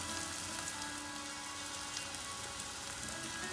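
Spices sizzle steadily in hot oil in a pan, a dense, even crackle at low volume with no voices.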